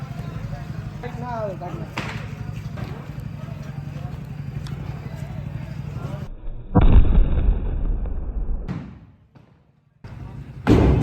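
Diwali firecrackers burst outdoors with loud sharp bangs and crackling, surrounded by steady crowd noise and people talking; a heavy boom lands near the end, followed by a short lull and then another burst.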